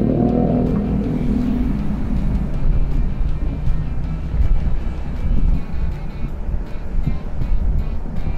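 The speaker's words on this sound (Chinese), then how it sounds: "而家我揾架摩托車坐下先。" Motorcycle taxi ride in Thailand, with a steady engine drone and strong wind rush over the microphone throughout, close and continuous from start to finish.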